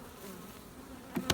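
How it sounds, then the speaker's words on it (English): Stirred-up honeybees hum steadily around honeybee mating nucs, a soft, continuous buzz that holds throughout, with a couple of sharper, louder bursts close by right at the end. "the bees are pretty rightly stirred up now"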